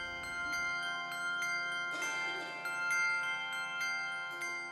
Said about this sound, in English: the bell choir is simply just a part of what we do